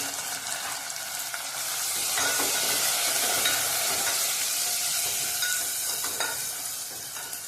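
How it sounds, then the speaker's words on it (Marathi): Onion and tomato sauté in hot oil in a pan for a drumstick amti, giving a steady, close, loud sizzle with faint scraping of stirring and no voices. "त्यातच टोमॅटो टाकून भाजून घ्यायचे आहे"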